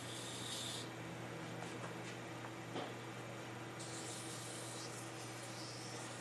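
800-grit wet sandpaper sanding an Alumilite resin blank spinning on a lathe at about 1,000 RPM, a steady close rasping rub over a constant motor hum with no talk.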